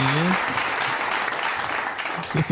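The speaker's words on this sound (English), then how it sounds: "Let's give her a round of applause." Applause from a podcast audience greeting a guest, a steady patter of clapping with brief voices speaking over the start and end.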